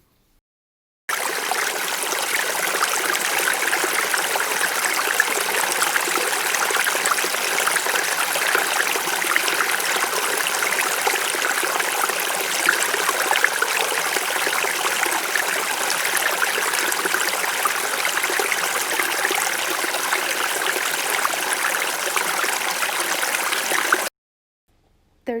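Water spills steadily down an engineered waterfall at a backyard pool, a close, continuous hissing rush with light gurgling that runs unchanged for over twenty seconds, alone with no other sounds.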